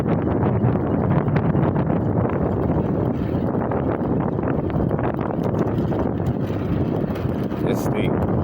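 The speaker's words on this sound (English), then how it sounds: "this ain't nothing but a straight downhill. And it gets all this dang on wind" Heavy wind buffets the microphone in a constant low roar during a steep straight downhill ride on a TST F8 MAX scooter, loud and close, with faint talk mixed in.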